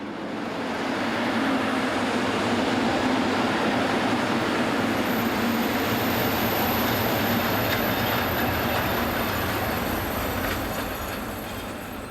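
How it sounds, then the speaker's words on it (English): Class 143 electric locomotive 143278 arrives at Pressig station with a local passenger train, a loud continuous rolling rumble of wheels on rail with faint squealing, sustained throughout and fading slightly at the end. "We begin at Pressig on the southern side of the Frankenwald, as 143278 arrives with a local service for Lichtenfels."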